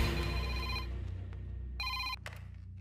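A telephone rings loudly in a steady electronic trill, then stops; two short bursts of a higher ring follow near the end, with no talking.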